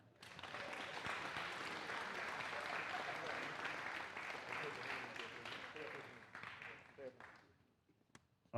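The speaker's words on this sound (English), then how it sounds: "let's bring up and give a big round of applause for senior Justin Mackey" Applause from a high school spring band concert audience greets a senior trombonist, steady crowd clapping that runs for about seven seconds, then thins out and fades with a few stray claps.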